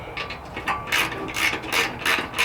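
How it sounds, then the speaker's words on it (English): A ratchet wrench with a 5/8 inch socket clicks rapidly in short bursts of repeated pawl clicks, close and fairly loud, while a front bumper, skid plate and winch are being installed. "Take the 5/8 inch"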